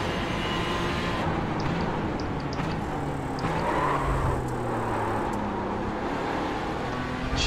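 A GTE race car engine in the iRacing simulator, loud and continuous from the cockpit, revs rising and falling through gear changes and corners with no pauses.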